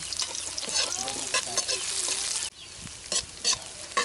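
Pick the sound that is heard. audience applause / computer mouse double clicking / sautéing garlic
sautéing garlic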